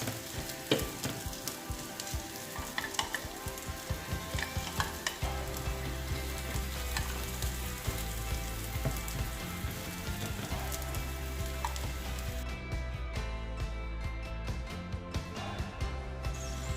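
Cheese-filled gozleme flatbread sizzles in a hot buttered pan, a dense, continuous crackling fry that holds steady and close with no talking.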